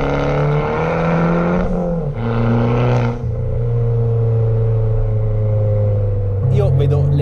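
An Abarth 595 with a Garrett turbo and a custom handmade exhaust runs close by, its engine tone shifting and revving through a few changes, with a voice talking over it at points.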